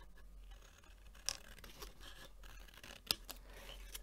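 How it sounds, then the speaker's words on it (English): Scissors trim away excess material, with a couple of crisp snips and faint rustling in a quiet room. "I'm just going to cut away the excess here"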